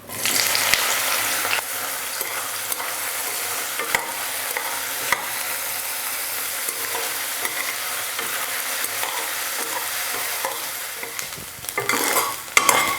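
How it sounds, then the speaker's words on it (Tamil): Soya chunks (meal maker) fry in hot oil in a kadai with a steady, loud crackling sizzle, broken by occasional stirring scrapes throughout. "எண்ணெயில் இந்த மீன் மேக்கரை நல்லா வறுத்து எடுத்துக்கலாம்"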